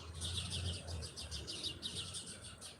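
Birds chirp in quick repeated bursts of bright tweets, moderately distant, over a low steady hum, with no talk.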